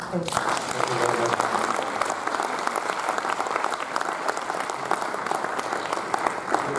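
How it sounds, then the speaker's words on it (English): An audience at a business chambers lunch with the Minister of Education applauds in a dense, continuous burst of clapping, close and steady throughout. "please give him a round of applause"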